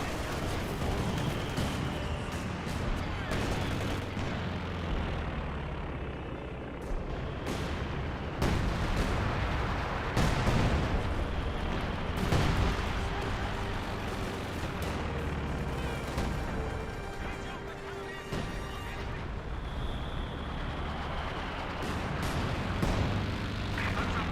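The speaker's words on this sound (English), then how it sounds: "And pack howitzer barrage is hitting the Panzer 4" In Company of Heroes 2, a pack howitzer barrage rains down on a Panzer 4, with repeated booming artillery impacts and gunfire in a continuous, dense battle din across the whole stretch.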